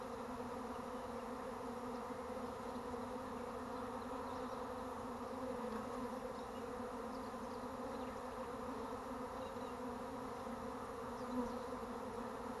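A dense, continuous buzzing of a bee swarm hums steadily throughout, an even droning with no pauses or voices, during a swarm capture.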